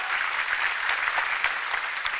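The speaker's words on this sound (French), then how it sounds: "C'est plus facile d'applaudir maintenant, hein?" Church congregation applauding a preacher's sermon in French: a short burst of steady, continuous clapping from a large crowd, even in level with a few sharper claps standing out.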